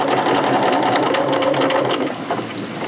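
A sewing machine stitches the side seams of combined garment facings, running in a steady continuous whir close up for nearly three seconds and easing slightly toward the end.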